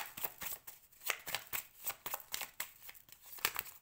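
Playing cards are laid out and handled, giving a quick run of light papery flicks and slaps, close but faint, with no talking.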